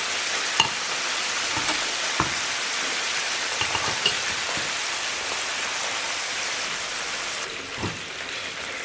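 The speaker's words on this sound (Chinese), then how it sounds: "再给它炸个2、3分钟" Chicken legs deep frying in hot oil give off a continuous dense crackling sizzle, close and steady, with occasional sharper pops throughout.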